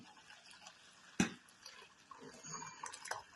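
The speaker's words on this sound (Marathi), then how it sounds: "त्याचं सगळं असं भांड्यात गाळून घ्यायचं" Cooled cooking water strained into a kitchen vessel, with a sharp clink of the pot, then soft trickling and dripping that swell toward the end, heard close and quiet.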